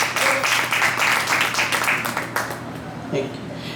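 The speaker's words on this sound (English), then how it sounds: "Can you have a round of applause for Ella?" Audience at a book launch for a book on Cuban music clapping in sustained applause, dense and continuous, thinning out near the end.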